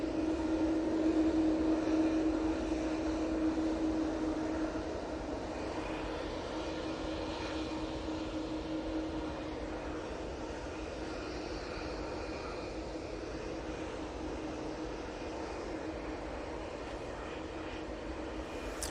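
Lufthansa City airliner departing Manchester, a continuous jet engine roar with a faint whine, louder at first and then settling into a steady distant drone, without voices.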